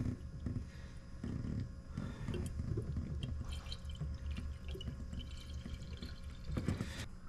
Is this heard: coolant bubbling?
yes